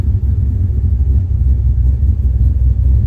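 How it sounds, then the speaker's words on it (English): A 1966 Chevrolet C10 stepside pickup engine idles smoothly with a steady, close, low rumble that holds even throughout, with no voices. "But truck's idle smooth."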